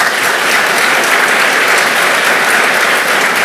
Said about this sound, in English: If you wouldn't mind also giving them a round of applause.